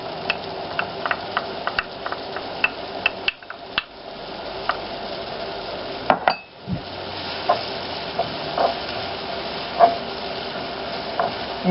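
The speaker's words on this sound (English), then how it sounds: "And let's just saute this for another like 30 seconds at least." Garlic sautéing in a pan, a soft continuous sizzle with scattered light clinks and scrapes of a utensil, briefly dropping out twice, no voices.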